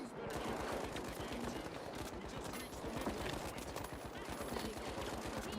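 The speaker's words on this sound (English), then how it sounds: "Oh, they're shooting at me! They're shooting at me!" Rapid automatic gunfire in a shooter video game rattles continuously at moderate loudness, blended with game sounds under a stressed player's voice.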